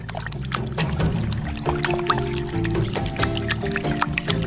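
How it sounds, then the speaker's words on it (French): Lukewarm water poured into a bowl of yeast, a steady loud stream with gurgling and splashing that runs continuously for about four seconds. "Je les remplis d'eau tiède."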